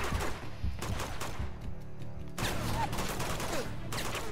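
Gunfire from Uncharted 2: Among Thieves, rapid volleys of shots in tight bursts, with a short lull midway before another fusillade crackles up again.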